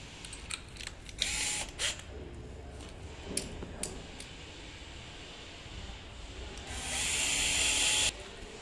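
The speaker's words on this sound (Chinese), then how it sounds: "这两个螺丝打上。" Driving two screws into the charging port cover of an electric scooter: quiet scattered clicks and metallic taps, then a sustained whir of a powered driver near the end, close by and with no talk.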